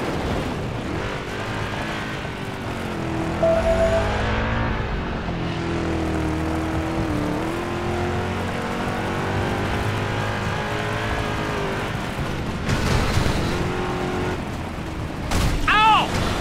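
Race car engines roar and rev in Driver: San Francisco, a steady loud motor drone with swells and passing whooshes, while people talk over it.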